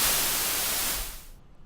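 White noise from the noise generator of an analog synthesizer, a steady loud hiss that holds for about a second and a half and then thins out and cuts off. No voices are heard.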